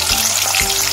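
Corn frying in hot oil in a pan while Jain poha is made, a loud, dense, close crackling sizzle that runs without a break.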